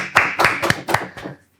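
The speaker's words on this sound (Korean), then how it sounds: "박수 한번 치시고" A quick burst of about five or six hand claps, close and fairly loud, spaced in a steady rhythm and trailing off after a second and a half.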